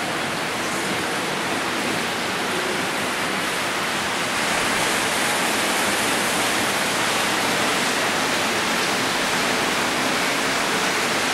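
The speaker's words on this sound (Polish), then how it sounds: "Mamy też tutaj przy wejściu taki strumyczek." Small stream flowing at the entrance of a palm house, a steady, broad rushing wash of water that stays loud and continuous throughout with no voices over it.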